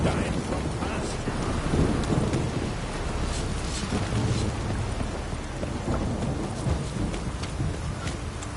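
In The Witcher 3 game, steady rain hisses over everything while low thunder rolls and rumbles in the background, with scattered drops pattering close by.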